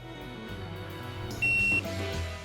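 A continuity tester gives a single steady electronic beep, close and clear, lasting about a third of a second over a low background hum.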